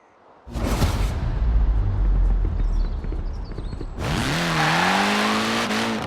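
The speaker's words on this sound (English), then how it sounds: "A spot of rallying in the most British car of them all." A rally car in Forza Horizon 4 starts up and drives off loudly, then its engine pitch climbs steadily as it accelerates hard, heard alone without talk.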